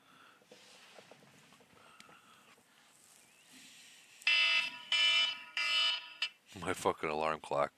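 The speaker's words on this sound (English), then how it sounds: "My fucking alarm clock." An alarm clock rings in loud, repeated beeping bursts in the second half, after a quieter stretch of faint background sound, and a voice briefly follows at the end.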